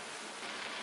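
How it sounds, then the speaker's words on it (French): Water boiling in a pot for pasta, a steady broadband rushing hiss with a slight bubbling texture, fairly close and continuous with no voices. "L'eau est en train de bouillir."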